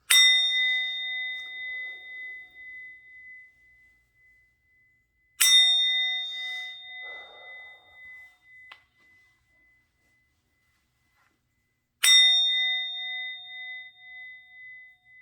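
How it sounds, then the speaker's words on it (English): A struck bell rings three times, each strike a sharp metallic onset followed by a clear, pure tone that slowly fades to silence before the next, evenly spaced and close. "I'm going to ring the bell."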